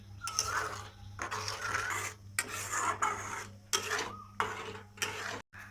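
A spoon scrapes and rubs through a thickening ripe mango candy mixture in a pan, slow repeated rasping strokes with short pauses between, close and fairly quiet over a low steady hum.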